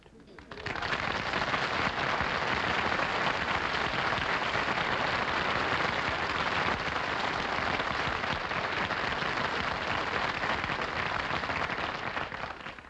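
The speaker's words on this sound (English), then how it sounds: "I didn't mind the applause he got on his entrance" A studio audience breaks into loud, sustained applause for a character's entrance, a dense, even wash of clapping that holds steady for about twelve seconds.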